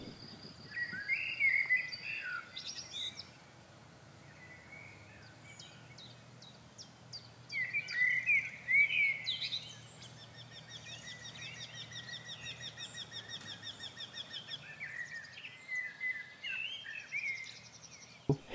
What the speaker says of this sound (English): a bird I've heard singing for a couple of days, the wryneck